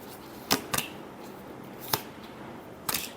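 Tarot cards being shuffled, a few quick crisp riffles and snaps in separate bursts over a quiet room, close and without talk.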